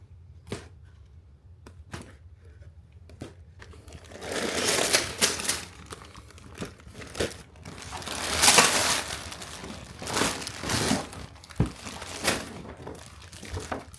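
Cardboard and plastic rustle and crinkle as a LEGO Ghostbusters Firehouse HQ set box is opened and unpacked, with scattered taps and clicks building into louder tearing and shuffling bursts, close by with no talk.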